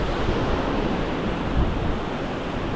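Ocean waves break along the shore at Arraial do Cabo beach in Brazil, a steady loud rushing wash of surf with no pauses and no voices.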